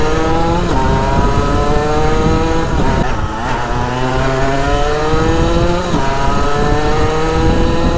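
Gilera SMT motorcycle engine running steadily while being ridden, a loud, buzzy two-stroke drone with pitch rising and falling through the gears, close and continuous with no talking.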